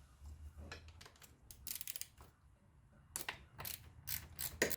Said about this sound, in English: we're going to want to loosen the nuts on the bottom of the clamp